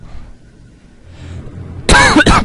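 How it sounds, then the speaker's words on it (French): Someone commentating a playthrough of Metroid: Other M coughs close to the microphone, two sharp bursts in quick succession after a short stretch of near silence. "dès que je fais une blague de merde, juste après, je tousse"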